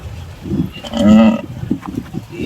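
A cow that has just given birth to a calf moos once, loud and near, a low drawn-out call rising and fading over a couple of seconds.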